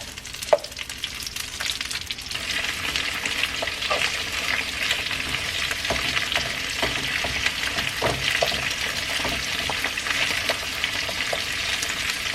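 Head-on shrimp frying in a pan for Mexican-style crispy camarón frito, a constant hissing sizzle with scattered pops and crackles from the hot oil.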